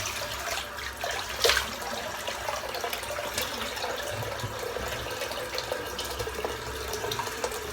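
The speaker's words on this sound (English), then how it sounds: "I'm just going to fill the sink back up again." A kitchen or bathroom sink fills from a running tap during a wet shave, a steady close rush of water pouring throughout with a few small splashes and no talking.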